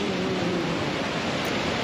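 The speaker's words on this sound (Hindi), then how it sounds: "पानी की आवाज़ आप सुन सकते हैं," Roaring floodwater of the Chenab River at Head Marala surges in a loud, dense, continuous rush with no break or voices.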